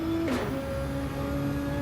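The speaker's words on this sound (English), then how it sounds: "there's a clunk from the Nissan" A Nissan engine in a racing game on Tokyo Expressway South drones steadily, then a short mechanical clunk as a gear changes and the engine pitch shifts.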